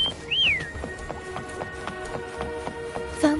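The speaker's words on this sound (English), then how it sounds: "Try whistling." A player whistles to call a mount in the video game Wuthering Waves: one rising-falling whistle near the start, followed by steady rhythmic hoofbeats and soft game ambience.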